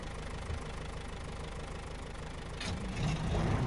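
A GMC Brigadier truck engine idles steadily under a log load in Maine, a low continuous rumble with a slight knocking texture that swells a little louder toward the end.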